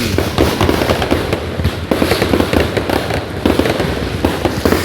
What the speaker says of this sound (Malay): Rupanya acara bunga api sambutan National Day.